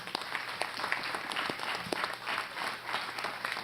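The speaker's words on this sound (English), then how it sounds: "So join me in giving them a round of applause." Audience applause at a skilled trades task force meeting, a steady burst of many hands clapping in a hall, moderately loud with scattered sharper claps.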